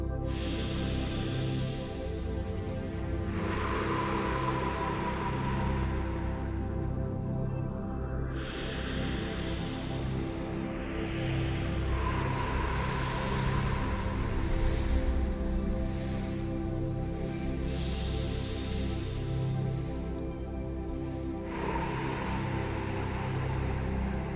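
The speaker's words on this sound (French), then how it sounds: "je vais faire de grandes respirations maintenant" Slow, deep breaths during a self-hypnosis relaxation, long drawn-out inhales and exhales repeating at an even pace, close and breathy with a steady background hiss and no talk.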